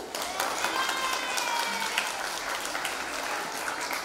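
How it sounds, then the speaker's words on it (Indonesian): Applause for class 11 at a school choir competition marking Hari Santri 2025, a dense, steady wash of crowd clapping with cheering voices mixed in, sustained at an even level throughout. "Tepuk tangan untuk kelas 11."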